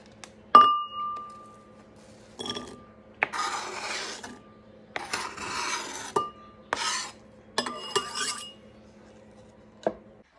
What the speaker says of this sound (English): we're going to go ahead and put it into our bowl